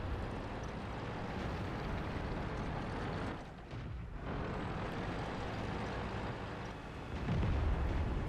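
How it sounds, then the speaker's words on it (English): Tank cannon fire in World of Tanks, with an E25 shooting through a barn: a dense, roaring battle wash of booming blasts and rumble, briefly dipping before a heavy low thud swells near the end. "E25 is shooting through the barn."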